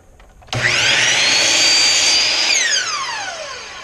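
A saw trims a herringbone flooring piece: the blade spins up sharply, holds a loud steady whine through the cut for about two seconds, then winds down with a falling pitch as it coasts to a stop.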